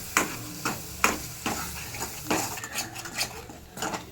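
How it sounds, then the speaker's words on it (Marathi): Masala with curry leaves frying in a pan, heard as a soft sizzle under repeated metal spoon scrapes and taps against the cookware at an uneven pace. "तेल सुटेपर्यंत परतायचं मसाला परतलाय"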